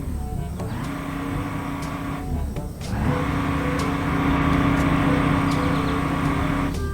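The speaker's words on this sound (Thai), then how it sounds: "อ่านี่คือเสียงเครื่องยนต์ของมันนะครับ นี่เลยนะจะเร่งเครื่องให้ดูนะครับ" A small engine runs steadily, dips briefly, then revs up to a louder, higher droning pitch and holds it, heard close with no speech.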